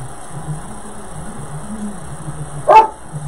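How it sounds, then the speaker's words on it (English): A ten-year-old black German Shepherd bitch gives a single sharp, fairly close bark near the end, rising briefly above a low steady indoor hum. "You'll probably hear my dog every now and then. She's getting a little vocal more in her old age."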